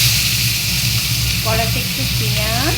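Onion and ginger fry in hot oil in a wok, producing a loud continuous sizzle while someone talks over it.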